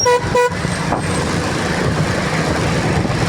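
Two quick motorcycle horn toots sound right at the start, close and loud, followed by steady traffic and engine rumble.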